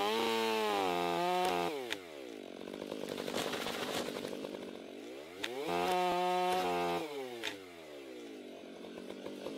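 A Stihl chainsaw makes a bore cut into a big oak tree during felling, its engine loud and close, revving high and dropping back twice in long surges with idle dips between.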